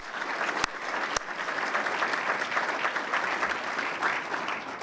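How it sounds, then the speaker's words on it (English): Steady applause from a gala audience at a chamber of commerce awards dinner, honoring board directors, a dense continuous clapping throughout with a couple of sharp louder claps near the start. "Let's have a round of applause for those 2024 directors."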